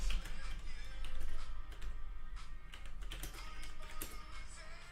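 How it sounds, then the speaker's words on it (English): Fast, irregular typing on a computer keyboard during a live stream, with close, clicky keystrokes in bursts and short pauses. "Wow, I really cannot type."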